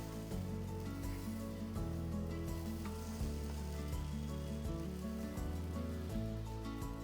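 Food fries in sesame oil in a home kitchen, a steady dense sizzle and crackle holding evenly throughout with a low background hum.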